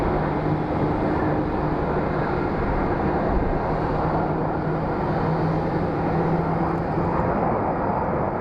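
A Mesa Airlines CRJ900 airliner landing at Phoenix Sky Harbor produces a steady, broad jet roar that holds at a constant loud level throughout with no talking.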